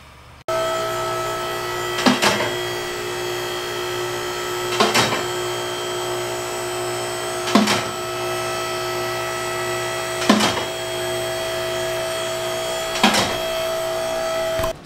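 A nitro-fueled RC engine idles steadily at its first start-up, a constant high buzzing hum with sharp revving bursts recurring about every three seconds, close and loud with no talk.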